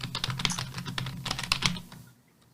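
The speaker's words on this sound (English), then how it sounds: "You guys get some nice ASMR of me typing." Fingers type on a computer keyboard, giving a quick run of close, crisp clicks and clacks in an uneven rhythm before the keystrokes stop and quiet follows.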